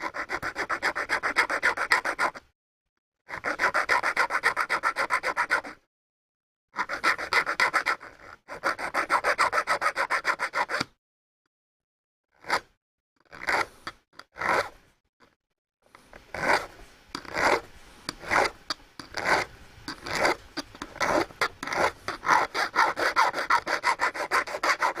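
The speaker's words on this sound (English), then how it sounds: "A little bit more filing, I think." Rasping strokes of a hand file in bursts of repeated back-and-forth scrapes, broken by short pauses and then quicker, choppier strokes, close and fairly loud, with no talking.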